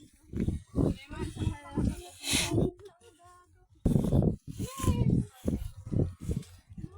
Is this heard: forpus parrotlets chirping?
no